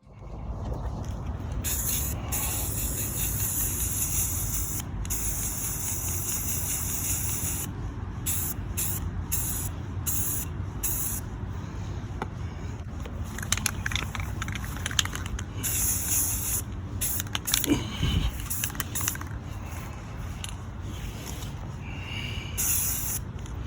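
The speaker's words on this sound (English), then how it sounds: "I'm gonna spray paint this." Repeated hissing bursts from an aerosol can of semi-gloss white spray paint, short and long sprays separated by brief pauses, close and fairly loud.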